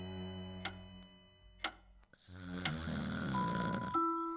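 Wolf snoring effect from a fairy-tale audiobook of The Wolf and the Seven Young Goats, a deep rumbling snore with a long drawn breath, preceded by a few ticking clicks and followed by a short whistle.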